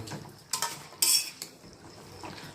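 Kashmiri chilli, salt and turmeric are stirred in a pan, producing a few distinct scrapes and clinks of a spoon against metal over a quiet background.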